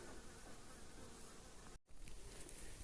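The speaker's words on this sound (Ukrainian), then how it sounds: "Буду дивитися оцю бджолину сім'ю." Honey bee colony humming steadily throughout an autumn evening hive inspection, a dense close buzz with a brief dropout near the middle.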